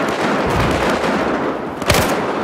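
Gunfire rattles in Battlefield 4, with a dense, loud wash of battle noise, a few heavy thumps, and a sharp burst near the end.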